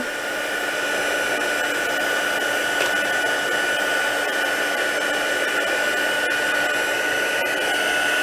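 Heat tool used for embossing on paper blows hot air in a steady, continuous whooshing roar with a faint whine, close and even throughout.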